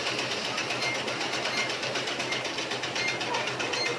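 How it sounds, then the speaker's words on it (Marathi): A sewing machine runs continuously as a mother stitches a pair of pants, giving a steady rapid mechanical whirring with a fast even pulse at moderate distance. "इथं मम्मी बघा माझ्या पॅन्टीला शिलाई मारते."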